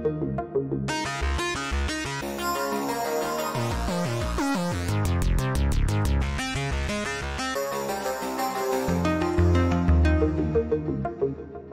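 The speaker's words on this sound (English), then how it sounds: "you have any section of MIDI and you want to jump around between different instruments and it sounds kind of like this." A MIDI phrase hocketed across several different instruments in Bitwig, each note or fragment jumping to a new timbre, giving a busy, shifting electronic texture with a burst of rapid repeated high hits midway, steady and loud throughout with no voice.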